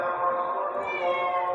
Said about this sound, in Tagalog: nautosan ako ng amo na bigyan ko daw ng pagkain yung pusa kasi gutom na gutom daw